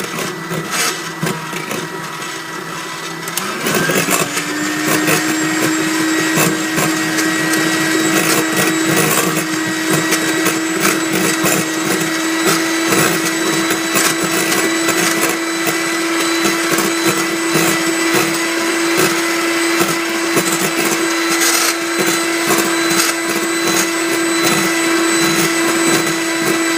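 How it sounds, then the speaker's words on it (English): An electric whisk beats egg whites for pavlova, a steady loud mechanical whirr with a constant motor tone that starts after a few seconds and runs continuously to the end, with no talking. "As you whisk it more, it becomes stiffer."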